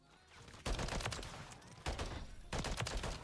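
Modern Warfare 3 gunfire comes in three loud, close bursts of rapid automatic shots, each a few tenths of a second to a second long, separated by short gaps.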